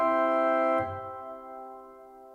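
Viscount Chorum church organ with a Gothic church reverb setting: a rich sustained chord is released, and a long, spacious echo lingers and slowly decays, with nothing else heard.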